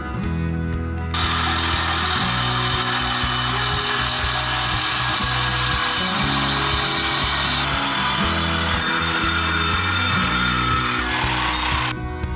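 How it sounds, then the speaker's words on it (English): A reciprocating saw cuts through the belly pan of a 2018 Jeep, a loud continuous buzzing rasp that runs almost the whole time, briefly pausing near the start and end, with no talking. "I've got my reciprocating saw and I know where I need to cut"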